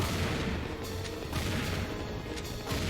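Rocket launcher fire in Serious Sam II, a dense, loud barrage of heavy booms and crashing impacts rolling together with a few sharper hits standing out, no speech.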